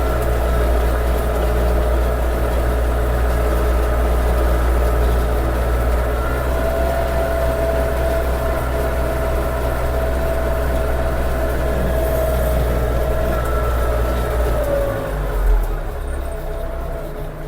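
Scout 404C tractor ploughing a field with a Unia 2/30 plough in autumn, its engine a steady loud drone with low rumble that holds constant throughout, dipping slightly near the end.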